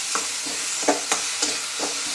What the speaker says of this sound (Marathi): यामध्ये आपण जे वांगे साल काढून ठेवलेले आहे ते घालूया. हे छान मिक्स करून घेऊ.